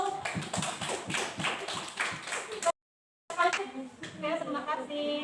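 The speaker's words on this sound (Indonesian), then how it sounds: "berikan aplaus dulu untuk kelompok 1" Students in a classroom clap for a group that has just presented, a dense patter of many hands with light chatter underneath, broken by a brief silent gap before the clapping resumes.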